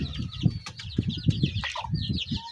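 Chickens moving about inside a DIY coop with a corrugated metal roof in a rural province, giving repeated close clucks and low calls along with brief wing flaps and scratchy rustling.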